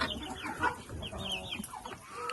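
Farm chickens clucking and calling close by, a busy overlapping flock with one or two crow-like calls, no talking.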